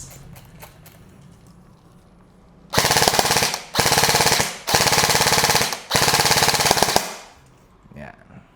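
Airsoft rifle, an ENC 855-style rifle, firing full-auto in four loud, close bursts of rapid mechanical shots, each lasting about a second, separated by short pauses.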